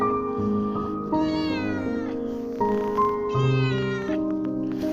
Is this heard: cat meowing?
yes